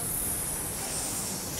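A voice imitates a snake with a steady, breathy hiss. The hiss continues unbroken for the whole stretch and is close and moderately loud.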